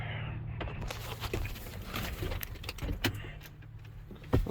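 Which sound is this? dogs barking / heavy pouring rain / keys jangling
keys jangling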